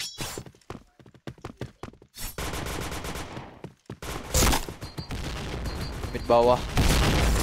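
Video-game shooter gunfire, starting as a series of sharp separate shots and building into sustained loud automatic bursts and rapid volleys, with players talking briefly over the action.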